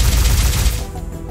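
Turret gunfire in the video game Silverwing, a loud dense roar of rapid shots that fades out toward the end of the short burst.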